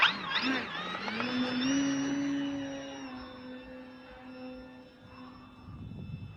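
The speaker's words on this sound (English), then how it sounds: "we got an RV-8 flight here" An RC RV-8 model airplane passes overhead, its engine whine rising in pitch then settling into a steady drone that fades as it moves away.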